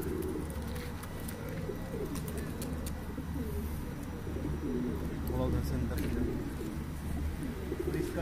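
Several pigeons coo in low, throaty bursts nearby on a rooftop, overlapping one another, while a person talks over the birds.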